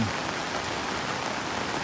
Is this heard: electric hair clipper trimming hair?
no